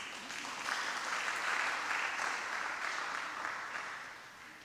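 A church congregation claps together in steady, sustained applause at a sermon, the dense clapping filling the room and fading slightly toward the end, with no talking over it.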